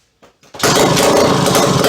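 A Suzuki K11 engine is pulled over with a couple of short cranking bursts, then catches and runs loudly and steadily close by, with a rough, buzzing small-engine drone.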